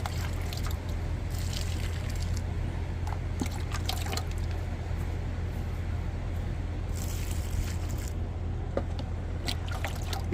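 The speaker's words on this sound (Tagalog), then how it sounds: "Then diligyan din natin ng tubig ulit." Water poured onto backyard garden plants on a sunny, warm day makes a steady, continuous trickle and splash over a low background hum, close by.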